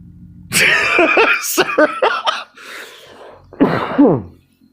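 Several sharp, explosive coughs or sneezes burst out close by, in quick bursts separated by short pauses.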